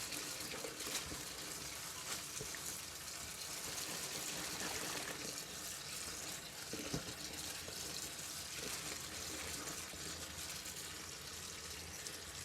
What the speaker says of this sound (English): Rinse the chili like this a couple of times.